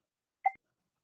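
A timer gives one short, faint electronic beep, alone in otherwise silent surroundings.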